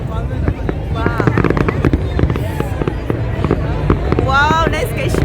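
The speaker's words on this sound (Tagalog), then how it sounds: "Fireworks na ito." New Year's Eve fireworks in Dubai pop and crackle in a dense, continuous barrage, loud and close, while a crowd around the listener cheers and people exclaim and talk.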